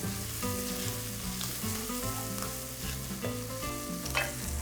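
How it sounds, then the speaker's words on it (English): Chopped onions sautéing in a pan while making butter chicken, a steady soft sizzle and stir running throughout over a bed of tonal background music. "And I'll just saute for a couple of minutes until the onions have softened."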